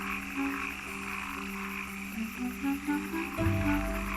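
Cross-barred tree frogs croak by a canyon stream in a steady chorus of repeated tonal calls, close and clear over constant flowing water, with a louder burst of water near the end.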